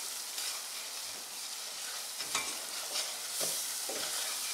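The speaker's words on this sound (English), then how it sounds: "lower the heat and just stir this mixture until it becomes smooth and bubbly" A bubbling, sizzling hiss dominates as a flour-thickened cheese sauce for Welsh rarebit is stirred over lowered heat. Occasional soft scraping strokes sound under the constant bright noise, close by.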